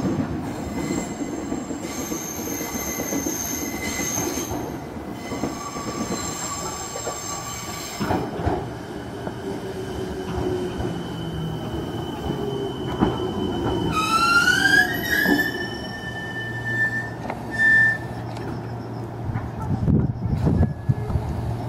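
A Meitetsu Nagoya Main Line train rolls into Kasamatsu Station steadily with a rumbling, clattering drone, then its wheels let out a rising metallic squeal as it slows.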